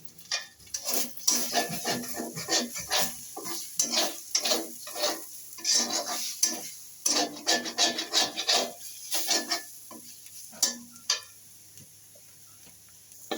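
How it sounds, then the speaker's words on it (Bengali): A spatula scrapes and taps in a pan, breaking eggs into small pieces while they fry in oil for a chicken noodle dish, making quick rhythmic rasping strokes that thin out toward the end. "ডিমগুলো এইভাবে একদম ফাঁকা ফাঁকা করে ছোট ছোট টুকরা বানাই ফেলাতে হবে"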